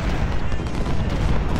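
Dense, continuous barrage of cannon and artillery fire from a Civil War battle in the strategy game Ultimate General: Civil War, booming steadily and loudly without any pause.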